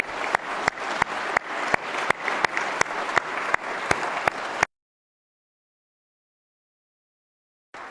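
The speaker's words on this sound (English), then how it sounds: "let's give Julie and Michael a huge round of applause" Audience applause at a Kentucky governor's budget address, a steady wash of clapping with regular sharp accents that cuts off abruptly partway through, followed by silence and a brief return at the very end.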